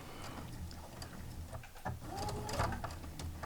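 A sewing machine doing a few tacking stitches to hold a facing down, heard as faint, quick mechanical whirring and clicking in short bursts in a quiet room.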